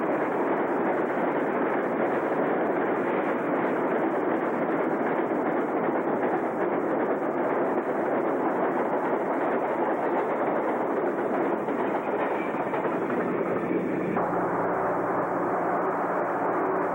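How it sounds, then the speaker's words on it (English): Southbound Ontario Northland freight train 308, led by engines 1800 and 1801, rolls past at Monteith, Ontario, in light snow, a loud, steady rumble and wheel roar filling the whole stretch without talk. "we watch as southbound train number 308 goes by with engines 1800 and 1801"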